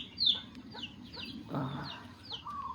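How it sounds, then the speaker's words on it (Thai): Chicken clucking near a cow pen on a Thai farm, a few short close calls repeating over faint outdoor background. "อ้าวไก่น้อยเจ้าไก่น้อยเอ้ยเจ้าเข้าไปทำไมดู มันเข้าไปอยู่ในคอกงัวค่ะ"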